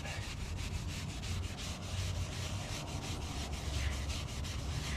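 A heavy, coarse abrasive pad scrubs rusty planed metal in steady back-and-forth strokes, making a continuous close rasping scrape with a regular rhythmic pulse and no talking.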